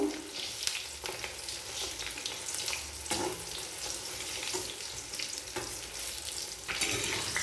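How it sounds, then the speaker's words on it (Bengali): Steady crackling sizzle of chicken pakora deep frying in hot oil, close by, with occasional stirring noises and no voices. "এরপর নাড়াচাড়া করে উল্টে পাল্টে লাল করে চিকেন পকোড়া ভেজে নেব"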